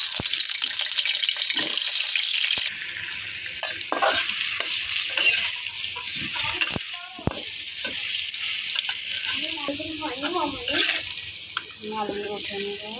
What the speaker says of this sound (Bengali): বিরিয়ানির জন্য আমি আলুগুলো দিয়ে দিলাম।